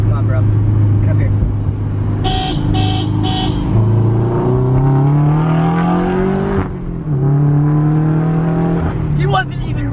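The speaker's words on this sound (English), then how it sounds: "We're about to street race some cars." Car engines rev and accelerate on a Texas street ahead of a street race, a loud continuous rising drone with a few short horn toots, while people talk and shout over it throughout.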